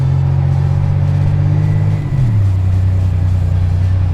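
A 1987 Buick Grand National's engine holds a loud, steady low drone close by, then its pitch drops and settles into a deeper hum.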